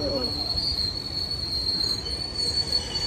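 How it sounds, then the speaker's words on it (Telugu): Pamani Express passenger train braking toward a stop, with a loud, sustained high-pitched wheel squeal that holds steady over continuous low rumbling rail noise throughout. "ఇదేంటి బాయ్ చెప్పగానే ఆగిపోయింది ట్రైన్."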